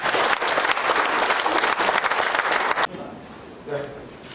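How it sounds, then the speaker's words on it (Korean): A ceremony audience at a cooperative head office opening gives a loud burst of dense applause for almost three seconds, then it stops abruptly, leaving faint room noise and a brief voice. "다시 한번 박수 부탁드리도록 하겠습니다"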